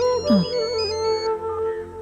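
A mobile phone ringtone plays loudly and close, a bright repeating electronic melody over a steady tone, with no one talking.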